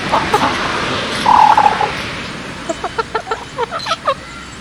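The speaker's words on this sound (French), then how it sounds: "Parce que les poules ronronnent" Hens make a brief soft purring trill, then a run of short close clucks in an uneven rhythm.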